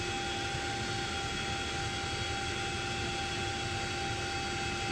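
Steady, dense turbine whine and rushing roar of a CH-47D Chinook helicopter's engines in the X-Plane 11 flight simulator, continuous and unchanging with a few tonal hums, no voices.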